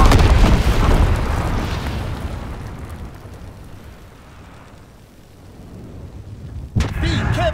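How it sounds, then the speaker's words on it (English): Incendiary bombs dropped by an enemy bomber explode in the World War II shooter Call of Duty WWII, a loud rumbling blast fading over several seconds into a low roar, then a sharp new crack and rising noise near the end. "Enemy bomber! Incendiary bombs incoming!"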